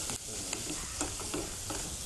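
Tomatoes and curry leaves sautéing in a pan give a steady sizzle and frying hiss, with occasional stirring scrapes and small pops throughout.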